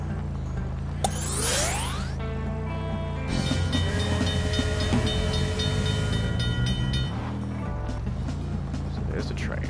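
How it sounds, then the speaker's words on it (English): A video game train in Rec Room rumbles past with a steady low drone, sliding horn-like tones and rattling mechanical clatter, loud and close, while a person talks over it. "So there's a train."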